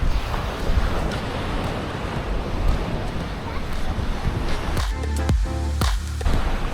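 Steady broadband wash of sea waves breaking close by at a beach club shoreline in Kemer, loud and continuous with wind buffeting the microphone, a voice briefly audible over it near the end.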